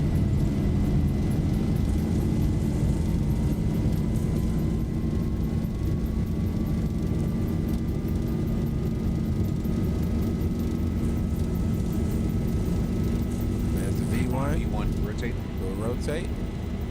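A Boeing 737-800 makes its takeoff roll in a flight simulator game: a loud, continuous engine roar with a slowly rising whine that holds steady throughout.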